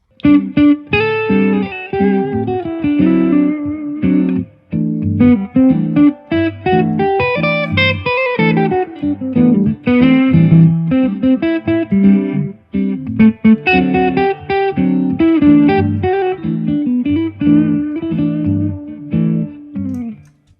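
An electric guitar plays a melodic solo built on major scale notes, a continuous run of clear sustained and rhythmically placed notes with brief pauses between phrases, loud and up front.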